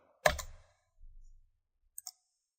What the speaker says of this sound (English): clicking the mouse in that cell and clicking on the Shading button